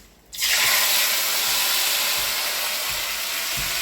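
A wet paste of ground ginger and cumin mixed with turmeric drops into hot oil for a green jackfruit curry, erupting after a brief quiet moment into a loud, steady, close sizzle with faint stirring thumps near the end.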